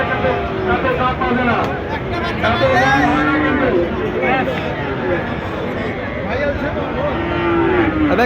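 Cattle moo loudly and repeatedly at a busy livestock market trading Friesian and crossbred bulls and calves, with people talking and murmuring all around the close, drawn-out calls.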